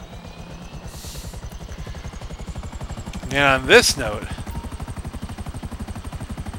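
A Buzzard helicopter in GTA 5 hovers with a steady rapid rotor chop throughout, while someone talks over it and a brief burst of in-game noise cuts in partway.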